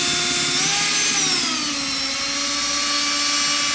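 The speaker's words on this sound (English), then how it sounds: "drill is getting hot. I'm working the hell out of it." A close electric drill whines steadily, its pitch rising briefly then dropping as it strains under load while churning a thick skim/seal coat slurry for a bathroom remodel; the drill is getting hot.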